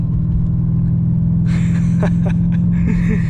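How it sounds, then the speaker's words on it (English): A VT 5L car drives with a steady, loud, droning engine hum throughout, noisy and close from inside the cabin, with a few brief clicks and rattles over it. "it's just this car is quite noisy and it just doesn't really go anywhere"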